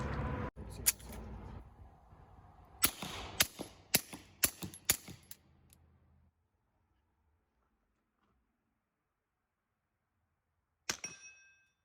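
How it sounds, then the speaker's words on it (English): Suppressed Rugged Obsidian 45 pistol fired outdoors into dirt and at steel about 15 yards away: a sharp opening shot, then a quick string of six muffled cracks, silence, and one last shot with a ringing steel ping. "you can hear how it sounds being shot into the dirt, and then how that steel sounds"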